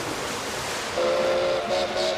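A train from a One Piece anime episode sounds a steady whistle or horn tone that starts partway through and pulses briefly near the end, over a constant rumbling background.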